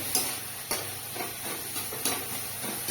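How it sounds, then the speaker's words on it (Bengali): Spice paste sautéing in a pan for a Bengali curry, a soft steady sizzle broken by several sharp scrapes and knocks of a spoon stirring, close and moderately quiet. "মশলাটাকে ভালো করে কষিয়ে নিই।"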